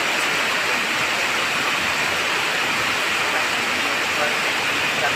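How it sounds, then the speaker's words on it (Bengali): Heavy rain falling, heard from a balcony after intense heat, a dense steady wash of noise throughout, loud and close with no talk. "প্রচন্ড গরমের পরে স্বস্তির বৃষ্টি,"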